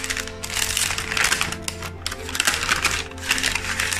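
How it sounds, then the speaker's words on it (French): Paper crackles and rustles continuously up close as a paper envelope from an advent calendar is torn open, with dense crinkling bursts and no talking. "on ouvre hein, sans plus tarder la dernière enveloppe"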